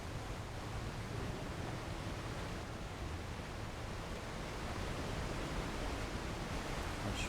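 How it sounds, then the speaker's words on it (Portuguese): A steady, broad rushing roar of a waterfall plays in Alan Wake Remastered, continuous and even throughout, with no talk over it. "Cachoeira."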